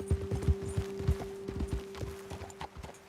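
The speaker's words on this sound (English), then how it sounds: "Best leave the horses back a bit." Horses ridden along a hillside trail clop with their hooves in a quick, uneven rhythm, close and fairly soft, over a faint steady hum.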